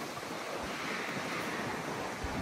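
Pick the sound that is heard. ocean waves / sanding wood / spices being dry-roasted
ocean waves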